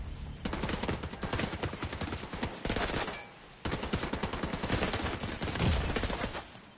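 Enemy gunfire in The Division 2 crackles in rapid automatic bursts, loud and close, pausing briefly midway before another sustained volley.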